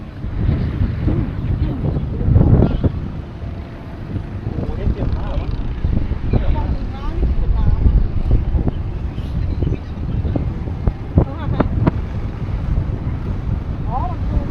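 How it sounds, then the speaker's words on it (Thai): Strong gusting wind buffets the microphone on a high skywalk in Kanchanaburi at dusk, a loud low rumble that swells and eases throughout, with faint voices and crowd sounds beneath. "เสียงลมมันดังมากเลย"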